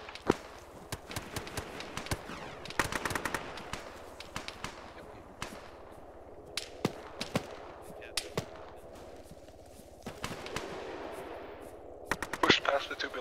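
Gunfire in the Arma 3 video game: irregular single shots and short bursts, some crisp and near and others more distant, popping at scattered intervals through the whole stretch.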